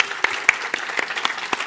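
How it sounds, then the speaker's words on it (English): Sparse applause for presenters at an evening peace festival light show, a handful of distinct claps at an uneven rhythm over a quiet background. "Let's give all our presenters a fabulous presenters a round of applause."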